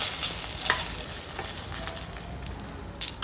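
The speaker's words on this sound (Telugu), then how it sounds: "ఈ వంకాయలన్నీ వేసుకొని సిమ్లో ఫ్రై చేసుకోవాలి" Brinjal (eggplant) pieces fry in oil over a low flame with a steady, dense sizzle and crackle, close and continuous, with a few scraping stirs.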